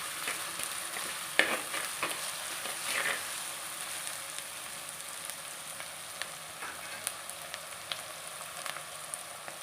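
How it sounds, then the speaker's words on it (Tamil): Onions sauté in a pan for drumstick poriyal, a soft continuous sizzle with occasional louder scrapes and stirs of a spoon, close by and with no talk. "இப்போ ஆனியன் வதங்கி இருக்குதுங்க"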